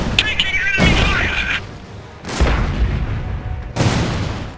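Bursts of enemy fire in the Iron Harvest 1920 strategy game, three loud volleys of gunshots and booms separated by brief lulls, over a constant battlefield din with some voice chatter.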